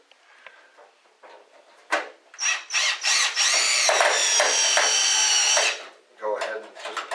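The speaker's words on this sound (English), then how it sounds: "So we'll grab our drill here." Power drill driving a self-tapping screw into the metal plate of a T8 light fixture retrofit, with short bursts and then a steady whirring run of about two seconds, close and loud, followed by quieter handling noises.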